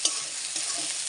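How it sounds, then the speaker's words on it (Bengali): Onions and garlic fry in a pan for a tarka, a steady close sizzle with light scraping stirs, and no voices. "একটু লাল লাল করে ভেজে নেব"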